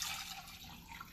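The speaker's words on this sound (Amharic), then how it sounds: "ከዛ ውሃውን ጨምርና" Water is poured onto gesho for Ethiopian honey wine (tej), a brief, faint splashing trickle into a container heard alone at low level.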